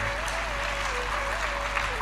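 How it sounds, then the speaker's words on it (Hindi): At a Hindu religious discourse, a large audience applauds in a steady, dense wash of clapping that fills the hall, while a faint voice carries beneath it. "ताली बजाने का मन करे जोर से बजाओ,"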